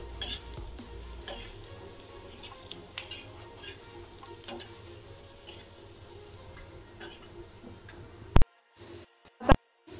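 Chopped onion mixture for egg bhurji stirred in a hot pan, a steady close sizzle with scraping strokes of the spoon for most of the span, then a few sharp knocks of a utensil against the pan near the end.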